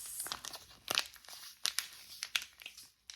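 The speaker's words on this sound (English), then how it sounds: "the last crinkly item, kind of, is this taco seasoning mix" A packet of taco seasoning mix is handled and crinkled up close, giving soft bursts of crisp crackling in an irregular rhythm, quiet and alone.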